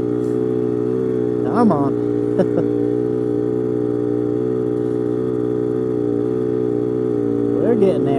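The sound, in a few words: Polaris Scrambler 250 three-wheeler engine at full throttle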